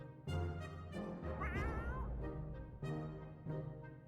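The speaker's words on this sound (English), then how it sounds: "That was a weird meow for a cat." A cat meows in the video game 60 Seconds! Reatomized, giving a few loud, strained, wavering calls over a droning game background, with a warbling rise in the middle.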